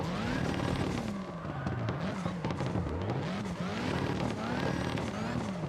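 The Evo 3 car in CarX Drift Racing Online 2 with its anti-lag system, a steady loud engine drone whose pitch rises and falls as the revs climb and drop, with rapid popping crackle layered over it.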